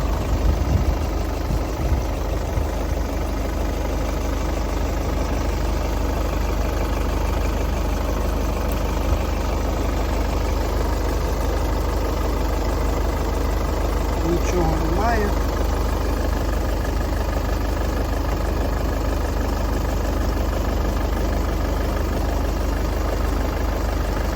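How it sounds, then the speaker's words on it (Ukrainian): A 2013 Ford Kuga 2.0 diesel engine idles steadily with a low, constant rumble and a faint rattle, running throughout at close range. "Двигун працює як для дизеля, просто, просто ідеально."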